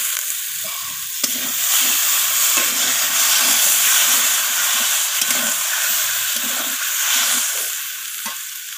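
Masala for surmai fish curry fries loudly in a pan as the water from rinsing the spice bowl goes in, producing a strong sustained sizzle and steamy hiss with bubbling underneath.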